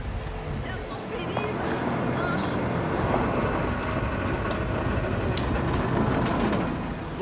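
Rumbling, clattering train noise from the video game New Dawn runs steadily throughout, with dense low-end rattle and scattered metallic squeaks, while voices speak over it.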